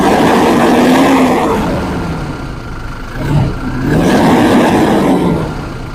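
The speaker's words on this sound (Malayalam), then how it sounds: "രണ്ടിന്റെ എഞ്ചിൻ സൗണ്ട് കേൾപ്പിച്ചു തരാം" A Toyota Innova and Innova Crysta engine runs nearby, a loud steady mid-range drone that dips briefly then rises again as it revs, with no voices.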